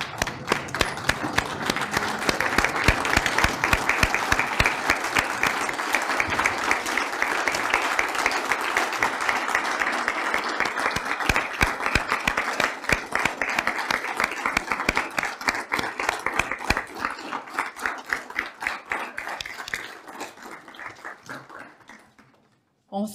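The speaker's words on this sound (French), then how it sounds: "j'aimerais ça qu'on se lève et qu'on se leur donne une bonne main d'applaudissements" A standing audience at a book launch for an immigration stories writing contest gives a long round of applause for the authors, dense rapid clapping that holds steady for many seconds, then thins out and fades to silence.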